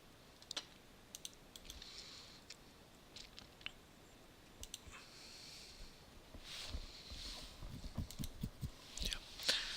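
Computer mouse and keyboard clicks at a desk while setting up Windows Deployment Services, faint and scattered in irregular taps and short clusters, with quiet room noise between.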